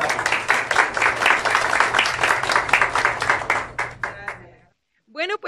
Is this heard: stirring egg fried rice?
no